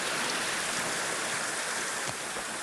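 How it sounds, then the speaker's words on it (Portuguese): Water from a stream rushes steadily along a forest trail, a dense, continuous broadband wash close to the microphone with no voices. "seguimos nos deparando com riachos, nascentes de água, por todo o percurso da trilha"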